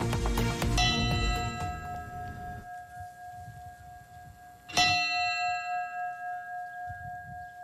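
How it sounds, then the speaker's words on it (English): Thirteen memorial bells chime in Buffalo, New York, a dense clang of overlapping strikes for the first few seconds, then one clear ringing tone sustains before a single fresh bell strike near the end rings out and decays. "you're listening in on the 13 bells that were chiming in Buffalo, New York this weekend"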